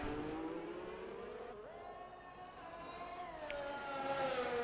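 Formula 1 racing car in a video game, its high-pitched engine whining continuously, climbing through gear shifts, close and moderately loud with no voices.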